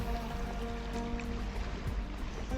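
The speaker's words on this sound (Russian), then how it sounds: "Вода плещется о камни, рябью расходится по поверхности." Lake water lapping against shoreline stones, a steady close wash of splashes and trickles with a low rumble beneath, continuous and unbroken throughout.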